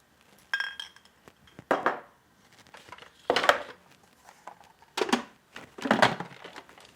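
Broken crispy snack pieces are stirred with sprouted buckwheat in a bowl, giving five separate bursts of crunchy clinking and rustling with short quiet gaps between them.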